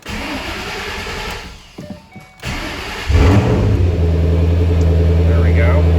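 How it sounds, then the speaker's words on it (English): A car engine cranks briefly and catches, then settles into a steady, fairly loud idle with a low rumble, following some shuffling sounds near the start. "I'll just start the car."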